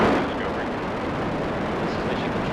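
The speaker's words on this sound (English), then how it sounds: "Booster ignition and the final liftoff of Discovery." Space Shuttle Discovery on its final launch, booster ignition and liftoff: a dense, continuous low rumbling roar that stays loud and steady throughout, broadband and crackling like distant artillery.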